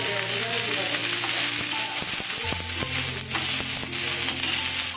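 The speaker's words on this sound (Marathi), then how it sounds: "कोथंबिरी भाजून घेऊ अद्रक लसूण" Coriander, ginger and garlic roast in a hot pan with a steady, loud sizzle throughout, and tonal hum and clinks sounding over it.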